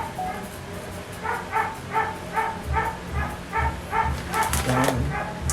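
A dog lets out a regular run of close, fairly loud barks and yips, with a brief clatter near the end, during food preparation of a prosperity bowl.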